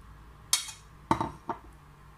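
Three sharp clinks of a utensil knocking against a large bowl while cooled mixed vegetables are stirred together, quiet between each hit.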